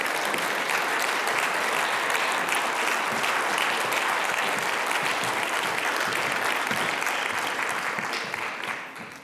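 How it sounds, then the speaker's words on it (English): A large audience at a panel discussion claps steadily for several seconds as panellists come up, a dense sustained wash of applause that fades out at the end. "we'll give the panellists a little round of applause as they come up"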